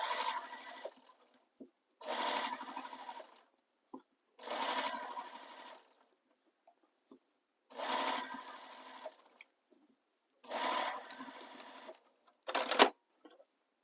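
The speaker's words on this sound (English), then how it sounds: "You won't have to stitch it the way I'm stitching it." A sewing machine runs along the seam of a fabric stocking in five or six separate bursts of a second or so each, divided by silent gaps, close and clear with no talk.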